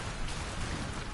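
Dense, steady rainfall in the video game Sifu, hissing and pattering evenly, fairly loud and close, with no voices.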